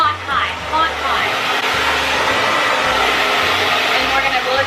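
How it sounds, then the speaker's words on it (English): A hair dryer blows on high heat during a round-brush blow-dry, a loud, steady close roar with a voice briefly speaking over it. "Don't forget to turn your dryer back on heat."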